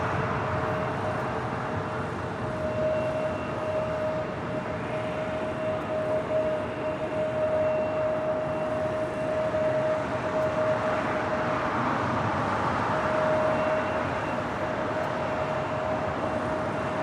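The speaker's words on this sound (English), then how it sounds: "Looking like Air Premia, the Dreamliner, heading to one of the gates on the southwest corner of Tom Bradley" An Air Premia Boeing 787 Dreamliner taxiing toward the gates at Los Angeles International Airport, a steady, distant broadband jet engine rumble with a faint whine, constant throughout with no voices.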